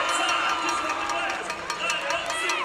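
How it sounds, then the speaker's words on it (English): Crowd at a 3x3 basketball game, a broad roar of cheering and voices with sneaker squeaks, steady and moderately loud throughout while a commentator speaks over it. "That's what I'm hearing from the crowd."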